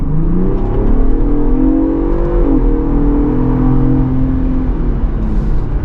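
A Ford Bronco Raptor engine revving up with a rising, steady drone and harmonic whine, heard close from inside the vehicle, running continuously without talk.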